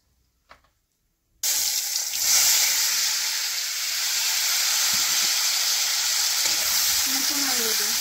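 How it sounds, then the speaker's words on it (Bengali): After a moment of near silence, potatoes hit hot oil in a pan and burst into a loud, steady sizzle and hiss that continues close up, with a faint voice near the end. "আলুটি একটু ভাজা করবো"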